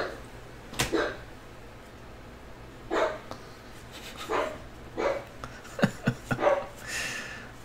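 A sleeping dog lets out soft, muffled barks and whimpers in a quiet indoor room, about half a dozen short bursts spread irregularly, with a quick cluster of yips toward the end.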